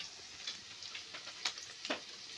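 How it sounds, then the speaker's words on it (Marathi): Cumin seeds and curry leaves crackle in hot tempering oil for a mung dal recipe, giving a steady faint sizzle broken by a few sharp pops and spits. "ही फोडणी द्यायचं काम चालू आहे"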